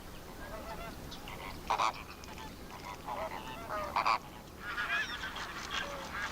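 Flamingos, greater and lesser, along with other aquatic birds honk and call at a lake in the Rann desert, a steady chorus of overlapping calls with several louder honking bursts standing out.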